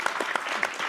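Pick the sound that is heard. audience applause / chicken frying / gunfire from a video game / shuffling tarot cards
audience applause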